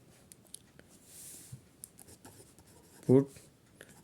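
Someone writes out a math step by hand, likely pen or marker on a surface, with faint scratchy strokes and taps scattered through a quiet room, and a brief voice partway through.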